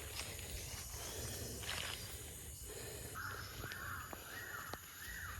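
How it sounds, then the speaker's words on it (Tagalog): A crow caws outdoors on a farm, four short harsh calls in a steady rhythm, moderately distant over a steady background hum. "May diri kay napay uwak."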